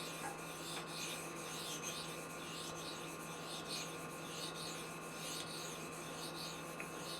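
A Spyderco Manix 2 knife with an M4 steel blade is sharpened on a 1200-grit stone, giving faint, steady rhythmic rasping strokes about twice per second over a quiet background hum.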